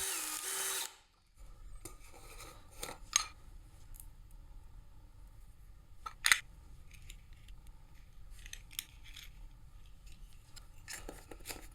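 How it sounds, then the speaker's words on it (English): A brief, loud burst of drilling a hole for a nail in a Stirling engine part opens, then gives way to quiet scattered clicks and tool handling in a still room. "So now I'll just drill that out to the right diameter for the nail."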